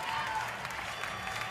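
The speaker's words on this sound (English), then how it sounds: "the Swedish crowd in front of us rejoicing" A Swedish crowd at the CrossFit Games Semifinals cheers and applauds in a steady wash of distant clapping and shouting, with a commentator's voice over it.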